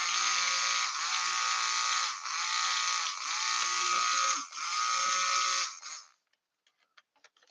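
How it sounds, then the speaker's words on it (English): A stick blender whirs steadily through warm melted oils for vegan banana bread scented soap, a loud continuous motor buzz with a few brief dips in pitch, then cutting off abruptly about six seconds in, leaving faint clicks. "I'm going to blend this together real quick so that it's all kind of, there's no lumps or anything"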